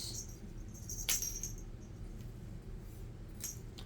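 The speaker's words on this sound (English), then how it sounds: "I'm sorry about the cat toy." A jingling cat toy is swung around indoors, giving a few brief metallic clinks and jingles over a low steady background hum.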